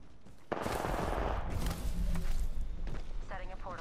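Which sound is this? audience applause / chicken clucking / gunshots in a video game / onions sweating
gunshots in a video game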